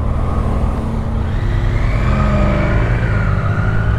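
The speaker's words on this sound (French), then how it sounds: "on démarre l'essai de la Daytona 660 de chez Triumph" A Triumph Daytona 660 motorcycle engine hums and revs steadily up close, a continuous loud mid-pitched drone with rising throttle, no talking.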